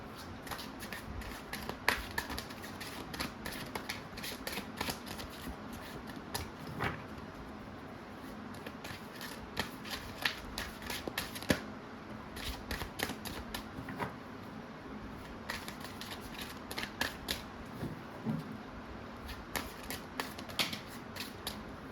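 Crisp riffling and shuffling of tarot cards, repeated bursts of soft snapping slaps in a steady rhythm, close up with a quiet room behind.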